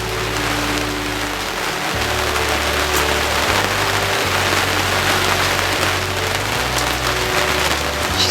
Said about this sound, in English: It's really pouring.